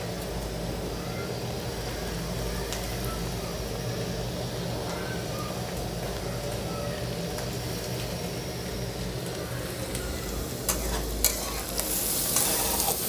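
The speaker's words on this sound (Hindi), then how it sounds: "ये देखिए अच्छे से ये फ्राई हो गया है।" Vegetables for veg chow mein, including carrot and beetroot, stir-fry in a pan with a steady, close sizzle throughout and a few utensil clanks near the end.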